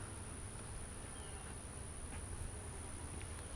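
Honey bees hum as a faint, steady, diffuse buzz around an opened hive that has already swarmed and is overrun with beetles, with a constant high whine and low background rumble throughout.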